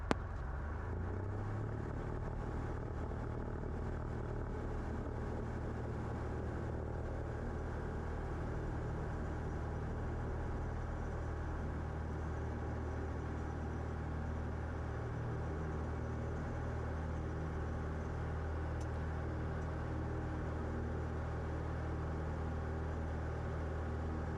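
A steady deep engine roar fills the cabin of a small airplane taking off from runway 34, with a constant hum and rumble that hold through the whole stretch and no voices.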